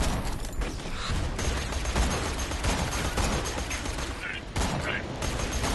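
Enemies fire on the player in Borderlands 2 with a dense, continuous rattle of gunshots and metallic clatter, loud and busy throughout, with voices mixed in.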